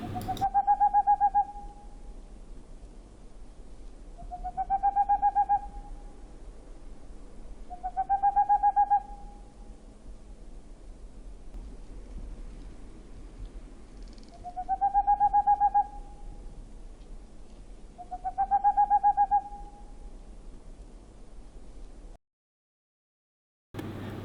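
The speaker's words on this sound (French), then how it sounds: "mais aussi des oiseaux comme les chouettes et les hiboux" Owls hoot at night in the Australian bush, five clear calls spaced evenly a few seconds apart over a quiet background with no voices.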